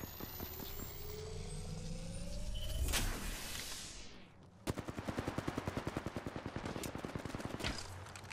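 Automatic gunfire in Apex Legends rattles in a fast, even burst of close shots after a rising whoosh and a brief lull, loud against a steady game background.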